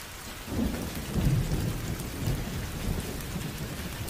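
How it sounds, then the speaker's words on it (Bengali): Light drizzling rain falls in a spooky Bengali cartoon scene. A steady, dense patter runs throughout, and soft low rumbles swell underneath. There is no speech. "ঝিরিঝিরি বৃষ্টিতে আমি পুরো ভিজে গেছি"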